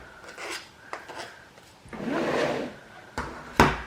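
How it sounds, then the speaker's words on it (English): A kitchen knife scrapes excess pork and Spam mince off the edge of a burger patty, giving soft rasping strokes at close range with a couple of sharper taps toward the end and no talking. "just get your knife and just scrape around it, a bit like you would your pastry really, and just take a layer off"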